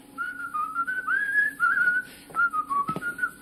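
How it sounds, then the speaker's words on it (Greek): A person whistles a wavering, meandering tune alone, the notes rising and falling in short phrases with brief pauses, fairly close. "Σου σφυρίζω."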